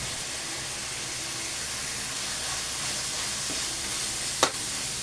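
Tomato paste sautés in oil with chicken, a steady close, hissing sizzle holding at an even level, with a sharp clink from a utensil near the end.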